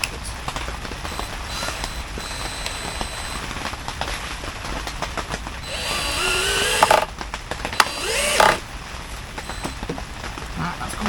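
Power driver sinking a screw at an allotment, with two short whirring bursts under some light clatter and background noise.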